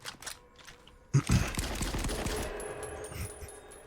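Gewehr rifle shots in the VR shooter Rifleman Elite, a single loud close crack followed by a rolling echo and a few faint trailing reports, with no talk.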